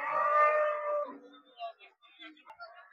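A cow moos at a busy Eid cattle market, one long drawn-out low call up close, followed by quieter scattered market voices and noise.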